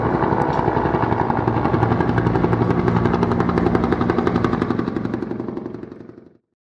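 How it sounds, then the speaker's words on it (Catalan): Helicopter rotor chopping steadily and loudly with a rapid, even thump under engine drone, holding close and constant for about six seconds before cutting off abruptly. "helicòpter,"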